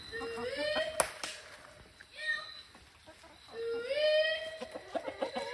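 Several hens cluck and squawk in rising bursts, close by, with brief gaps of quiet between the calls.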